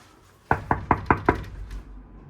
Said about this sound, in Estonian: koputame.